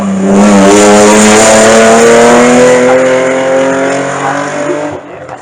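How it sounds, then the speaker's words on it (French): A race car revs loudly and steadily at a hill climb start line, its engine tone rising in clear harmonic bands before it pulls away and fades, with no talk over it. "La première voiture de course, elle est sur la ligne de départ et pas n'importe laquelle, hein, cette première voiture de course."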